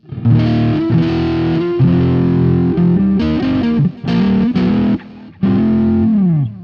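Distorted electric guitar through a GTR3 with a warm, slightly gritty neck-pickup tone, played in sustained chords and riffs with short pauses between phrases.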